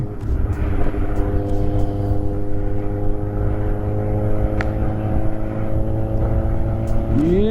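A Kawasaki Z800 motorcycle holds a steady 80 km/h at the top end of a gear, its engine a continuous loud drone with a steady tone and wind rush, rising slightly at the very end.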